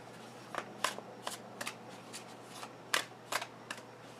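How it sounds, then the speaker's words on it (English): Tarot cards being shuffled in a quiet room, a series of crisp riffling bursts with short pauses between them, close and fairly soft. "So I did a pre-shuffle."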